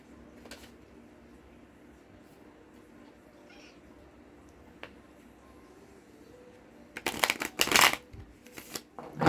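Cards being shuffled in a quick riffle burst near the end, after several seconds of quiet room sound.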